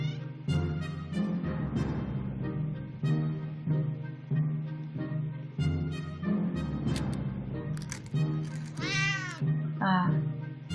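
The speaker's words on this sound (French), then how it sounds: "je veux savoir le nom du chat" A cat in the survival video game 60 Seconds meows several times over a looping game soundtrack, with a drawn-out wavering yowl near the end.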